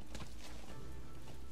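Horse hooves clopping at a walking pace in Metal Gear Solid V: The Phantom Pain, a loose horse in the game world, soft and moderately near with steady irregular footfalls over low ambient noise.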